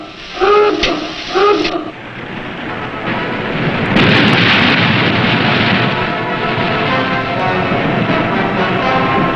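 A submarine's deck gun fires in a war film: a dense, heavy rumbling roar builds after brief voices and keeps rolling loud for several seconds.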